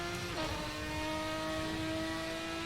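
Ferrari 550 GT1 race car in the GTR2 game at Donington, its engine holding a steady, harmonic-rich drone with a brief rev change early on, no voices.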